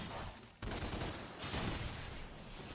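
Ebony and Ivory pistols in DmC Devil May Cry firing a rapid, continuous stream of shots, a loud dense barrage with a sharp jump in intensity after a short opening, mixed with game effects.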